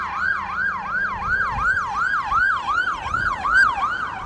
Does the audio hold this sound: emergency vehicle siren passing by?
yes